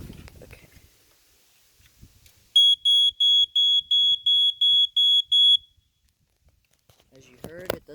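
Vintage smoke alarm sounding a slow temporal pattern, eight loud, evenly spaced piercing beeps in the middle, with brief speech and handling noise before and after.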